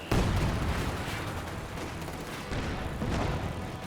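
Barrage of 120mm mortars in Company of Heroes 2, shell impacts landing in a series of heavy booms with rumbling debris, one sharp blast at the start and another surge later.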